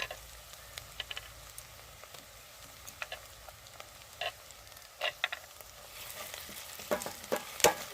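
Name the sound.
ginger garlic paste frying in a pan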